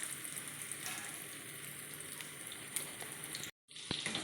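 Dal paratha frying in hot oil in a pan, a steady hiss and crackle with scattered pops, continuing after a brief gap of silence.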